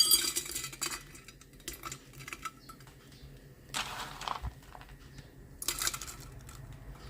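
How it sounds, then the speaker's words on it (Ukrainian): Dried berries such as raspberries, currants and barberries clatter and rattle into a ceramic teapot in a few short bursts, close and fairly quiet, with light handling clinks between. "насипаємо сюди ягоди,"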